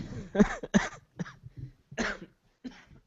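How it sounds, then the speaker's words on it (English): Several short, sharp coughs in quick bursts, close and fairly loud, separated by brief pauses. "Trying to cough in the microphone."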